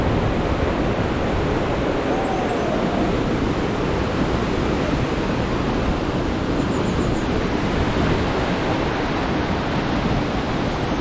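Spring water gushing out of the ground at Abshyr-Ata, near Kyzyl-Kiya, makes a steady, dense rushing wash that stays even and fairly close for the whole stretch, with no voices.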